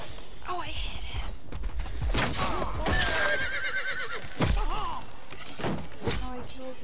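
A horse in the medieval combat game War of the Roses whinnies loudly several times amid clashing, thudding battle noise and hoofbeats, with someone talking over parts of it.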